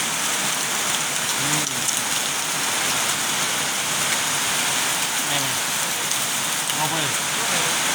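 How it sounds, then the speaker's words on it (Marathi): Heavy rain pours steadily and loudly, a dense unbroken hiss with faint distant voices now and then beneath it. "जोरदार पाऊस चालू आहा."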